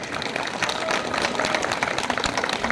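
A concert crowd at an outdoor event in Truskavets claps continuously, a loud, even wash of applause with faint voices mixed in.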